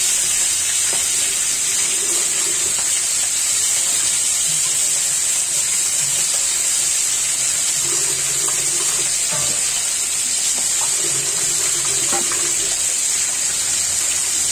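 Marinated rui fish frying in hot oil, a loud, steady sizzling hiss that runs without a break, with a few faint clinks of utensils beneath it.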